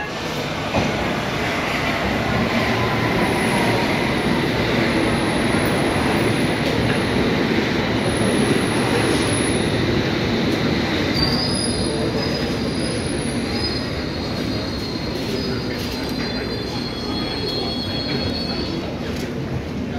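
A train rolls along the rails toward Bury St Edmunds in the UK, a loud, continuous rumbling roar with high, sustained wheel squeals drifting in and out over about twenty seconds.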